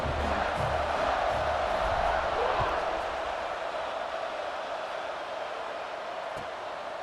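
A large stadium crowd roars and cheers at kickoff in the EA Sports College Football 26 game, Wisconsin at Michigan State, a dense, loud, continuous wash of voices that swells early and then eases slightly, with no clear speech.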